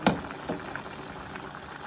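Sour bamboo-shoot soup with pig's head, pig's tongue, ginger leaves and spring onion simmers in a pot, giving a faint, steady bubbling with a soft knock at the start.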